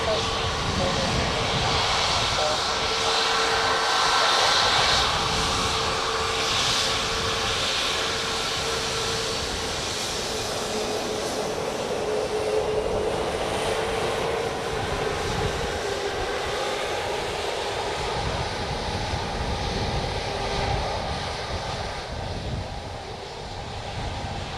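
ATR turboprop airliner at Dublin Airport, a steady loud engine roar sustained throughout, broadband and droning with a slight fade near the end, with some talk faintly present.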